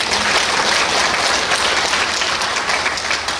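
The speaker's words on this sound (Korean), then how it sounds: "일부 찬양대원들 위해서 박수 한번 쳐주세요." A church congregation claps for the choir during a service, a close, lively burst of many hands applauding steadily for a few seconds with no speech over it.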